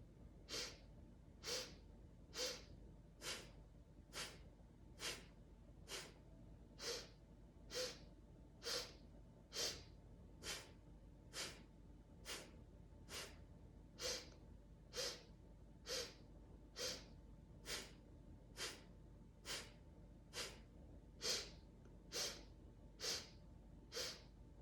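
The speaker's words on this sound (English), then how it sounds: "Really pump the navel as you inhale and exhale." Rhythmic breathing exercise with forceful navel pumping, a steady series of about thirty sharp nasal breaths, evenly spaced roughly a second apart, close and clear with no talk.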